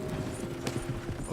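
Horses clip-clop at a steady galloping rhythm in the Red Dead Redemption 2 video game, close and continuous over a bed of background game ambience.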